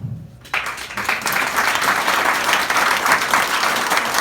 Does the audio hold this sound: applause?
yes